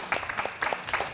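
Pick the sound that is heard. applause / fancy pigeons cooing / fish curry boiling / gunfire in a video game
applause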